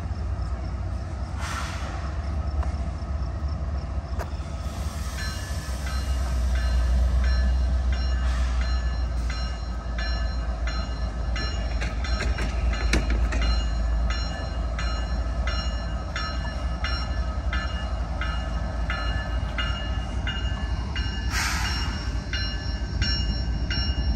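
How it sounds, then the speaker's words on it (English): Amtrak's eastbound Capitol Limited passenger train rumbles past at night in Elkhart, Indiana, with a steady rushing roar and rail noise, a brief horn sounding near the start and again near the end. "That was Amtrak train number 30, the Capital Limited, headed from Chicago Union Station to Washington, D.C."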